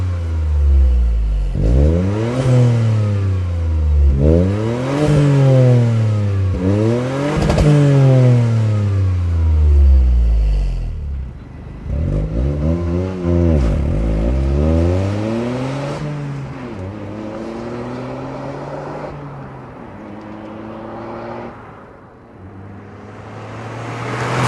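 Toyota GR Corolla fitted with a valved TOM'S Racing exhaust revving repeatedly, each throttle blip rising sharply then falling away in a clean piping tone, loud and close, with a longer settle near idle toward the end.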